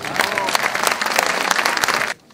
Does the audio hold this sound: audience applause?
yes